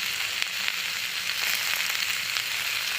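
Green chillies and turmeric fry in a hot pan, giving a dense, even sizzle that holds steady and close throughout the short stretch.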